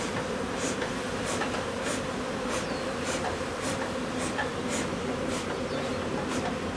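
Bees buzzing in a steady, close drone, with individual insects droning past in rising and falling passes over the constant hum.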